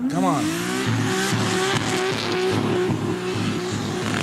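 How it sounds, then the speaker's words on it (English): A race car with an anti-lag system on a race track at Permyjaya, Miri, Borneo, roaring loud and close with rapid crackling pops and a rising then steady engine tone throughout, under faint commentary. "Check out the anti-lag on this car."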